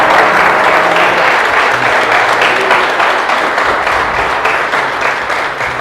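A church congregation applauds loudly and steadily during a sermon, a dense wash of clapping from many hands that fills the room without pause.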